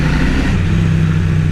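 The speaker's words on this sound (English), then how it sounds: "Oh, god, this bike sounds fabulous" A Triumph Street Cup motorcycle engine runs steadily and close, a continuous loud mid-pitched drone with slight rise in revs, heard alone on a countryside ride.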